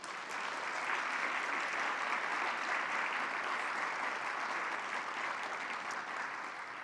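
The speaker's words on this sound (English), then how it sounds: "Let's give them a round of applause." An audience applauds awardees at a Champions for Children event, a dense continuous roar of clapping hands that holds evenly for about seven seconds without voices on top.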